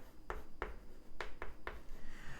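Chalk or marker strokes on a lecture board, five short scratchy taps in quick irregular rhythm, close and fairly clear, with no talking.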